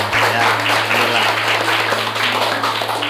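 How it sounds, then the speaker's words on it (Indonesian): Schoolchildren in an eighth-grade Islamic religious education class clapping hands, a dense continuous burst of clapping with voices mixed in. "Tepuk tangan."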